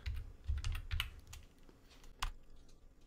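Someone types a sudo apt update command into a Linux Mint terminal on a computer keyboard. A quick run of close, soft key clicks is followed by a pause and then one firmer tap, like Enter, with no one talking.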